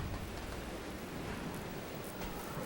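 Heavy rain pours on the roof of a moving train in the Resident Evil 0 video game, a steady dense hiss with no voices.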